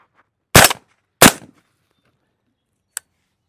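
Two loud, sharp gunshots from a 300 Blackout rifle firing Hornady SubX 190 grain subsonic rounds at a soda jug, about half a second apart, each with a short decay, followed by a faint small click.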